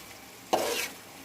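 Mutton liver frying with chillies and ginger, stirred in a pan: a sudden close burst of sizzling and scraping that lasts about a third of a second, then drops back to quiet.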